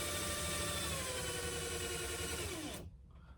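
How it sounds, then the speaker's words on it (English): A power drill whines loudly and steadily, its pitch slowly dropping as it winds down, then cuts off abruptly, leaving near silence. "I hope you can hear me above this drill."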